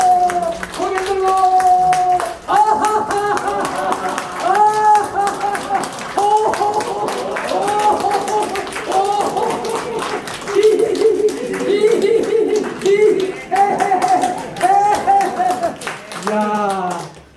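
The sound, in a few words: group clapping hands during exercise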